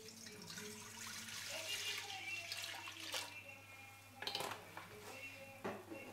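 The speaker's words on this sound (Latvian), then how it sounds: "un lejam iekšā pienu" Milk is poured into a rinsed cooking pot on a stove, a quiet liquid splash and trickle with a few metallic clinks of the pot.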